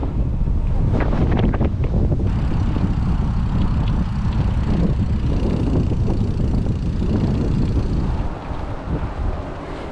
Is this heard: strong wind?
yes